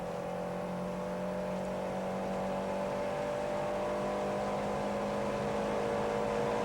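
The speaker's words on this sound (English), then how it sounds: "Into 5th gear, and listen to that change. No break in the revs at all" A 1987 Renault 5 Elf Turbo race car engine held at a constant high rev by a stuck throttle, a steady droning whine that never drops or breaks, loud and close throughout.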